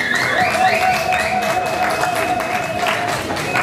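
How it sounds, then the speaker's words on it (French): An audience at a reggae festival press conference claps in a steady, close patter of applause that carries evenly for a few seconds without any voices over it. "Les applaudissements."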